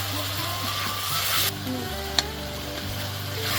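Spice paste, salt, turmeric and coriander powder sizzle loudly and steadily in a hot pan during village home cooking, with one brief sharp click midway.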